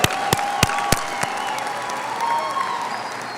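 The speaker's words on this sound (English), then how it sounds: "Big round of applause, guys." Hands clap steadily across a big audience at a high school graduation, loud at first and then thinning slightly as the applause continues.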